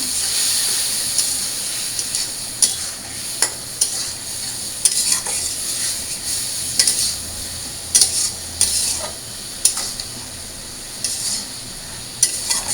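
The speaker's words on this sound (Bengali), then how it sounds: "তো আমি আলুর সাথে ভালো করে মশলাটা কষিয়ে নিই।" Potatoes sauté with coriander powder, turmeric and a splash of water for mango dal, a loud, close hiss of frying punctuated by repeated spatula scrapes and knocks against the pan.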